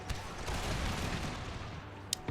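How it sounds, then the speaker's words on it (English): Cannon fire in a battle in Empire: Total War, a dense rumbling barrage of distant booms rolling together, with a couple of sharper reports near the end. "it's because I'm firing cannons into it all"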